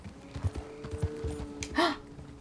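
A horse in Red Dead Redemption 2 gives soft rhythmic hoof clops on the ground, followed by a short bright whinny near the end, over a quiet game ambience.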